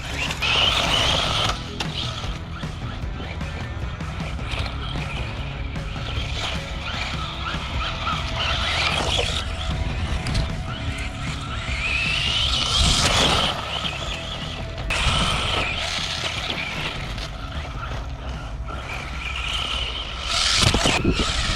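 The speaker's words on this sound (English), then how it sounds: "I need to get a little bit of air under the buggy." A Tamiya Hot Shot II 4WD RC buggy drives off-road on dirt, its small electric motor whining steadily with mechanical rattles and creaks from the drivetrain, loud and close, with surges as it bounces over rough ground.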